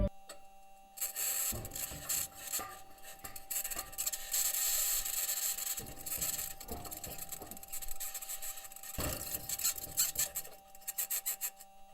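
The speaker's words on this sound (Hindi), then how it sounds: "थंग की आवाज आ रही है ये मार्स रोवर के टायर की आवाज है" Perseverance Mars rover's metal wheels rolling over rocks, heard as harsh scraping, rasping and clanking bursts with short clicks and a steady faint whine underneath, irregular and close.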